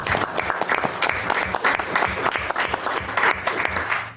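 Audience at a city council meeting in Ogden giving a round of applause, steady dense clapping from a roomful of people, loud and close for several seconds.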